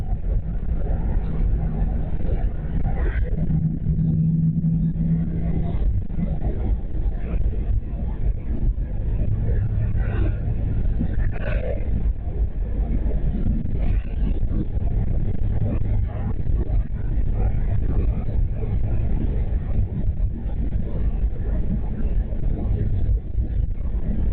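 Steady low road rumble from a car cruising along, continuous and fairly loud throughout with no talking, likely heard from inside the moving vehicle.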